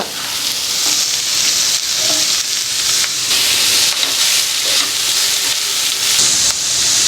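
Sliced onion and carrot sizzle loudly in a hot pan, a dense continuous hiss that holds steady throughout with slight swells and no talking.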